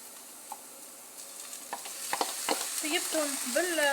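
Spinach being stirred into onions frying in a pan, with soft scraping strokes and a faint rising sizzle, close and alone with no talk.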